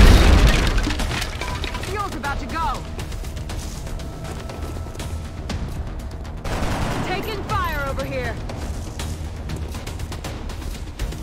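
Gunfire in the XCOM Enemy Within video game: a heavy opening boom followed by crackling bursts and rattling shots, with a second volley midway, while a person talks throughout.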